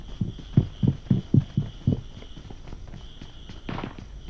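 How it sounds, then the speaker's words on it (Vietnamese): A run of about seven quick, thudding footsteps in PUBG Mobile, moderately close, followed by a softer step near the end, with a faint steady game tone underneath. "nghe thấy chân rồi"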